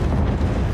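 Loud, continuous explosive rumble, a dense deep boom filling the short moment with no pause, like a blast sound effect.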